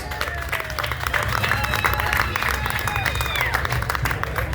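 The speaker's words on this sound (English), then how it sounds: "Give them a big round of applause." Outdoor crowd applause at a bikes, blues and BBQ rally, sustained steady clapping with cheering and crowd murmur throughout, fairly dense and carried across the open air.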